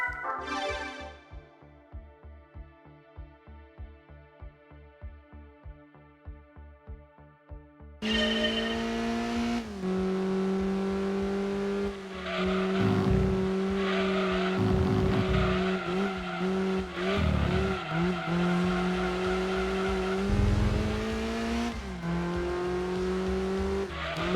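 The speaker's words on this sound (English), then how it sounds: "peak cornering on the midfield raceway with Toyota Celica SS2 from 99, 182 brake horsepower, front engine and front drive" Toyota Celica SS2 from 1999, 182 hp, front-engine front-drive, cornering on the Midfield Raceway in Gran Turismo 2. A rhythmic countdown of beeps gives way to a loud, sustained engine whine that rises and falls with gear changes and tire squeal.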